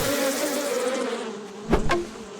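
Bees buzz steadily in the survival video game 7 Days to Die, a dense droning hum with a couple of sharper buzzing passes near the end, no talk over it.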